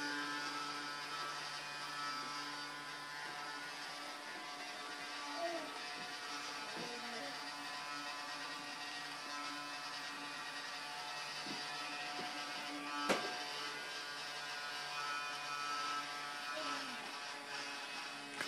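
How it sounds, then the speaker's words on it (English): A vacuum cleaner runs steadily as a young boy, Connor, vacuums a rug, a constant close motor drone with faint shifts as it moves and a brief knock near the end. "Vacuuming?"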